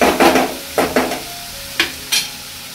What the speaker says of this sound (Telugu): సో దీన్ని ఇలా ఒక 1 మినిట్ అలా కలుపుతూనే ఉండాలి బాగా ఫ్రై